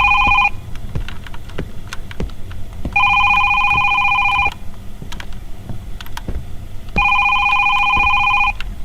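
A telephone rings in the horror video game Is Simon there?, sounding three loud bursts of a bright electronic ring separated by pauses, over a low rumbling ambient bed with scattered clicks.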